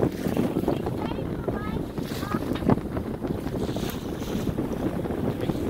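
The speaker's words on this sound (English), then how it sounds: "it's kind of silly to sail, because we have to have the engines on anyhow" A sailboat motors under engine power near Antigua, between Jolly Harbor and Dickensons Bay, with a steady low engine rumble, water wash and heavy wind buffeting the microphone throughout.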